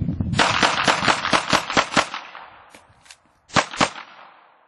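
Sharp, close gunshots crack in a fast string during a timed tactical shooting drill, about a dozen rapid reports, then a brief gap and a few final shots, with no talk over them.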